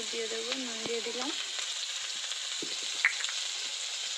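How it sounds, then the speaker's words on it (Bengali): Vegetables fry with salt in a pan, giving a steady bright sizzle throughout and an occasional light knock of stirring. A voice speaks briefly at the start. "দিয়ে একটু ভালো করে ভাজা করে নেব।"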